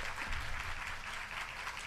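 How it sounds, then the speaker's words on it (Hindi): A crowd at a Maha Shivratri religious discourse claps together, a dense continuous patter of applause heard fairly faint and distant throughout. "जरा एक बार जोरदार ताली आज इस महाशिवरात्रि पे"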